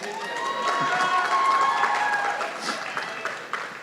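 Audience applause at an arangettam dance recital, steady clapping from a hall crowd that swells and then fades over a few seconds.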